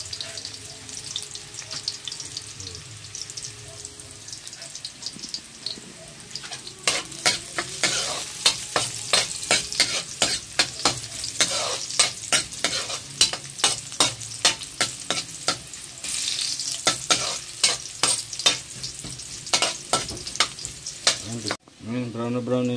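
Ginger sizzling in a pan for a shrimp and vegetable ginataan, with a steady hiss of frying under regular scraping strokes of a spatula stirring it, repeated clatters near and loud.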